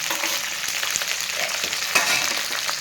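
Okra masala curry sizzles steadily in a pan, a continuous bright frying hiss with faint stirring scrapes throughout.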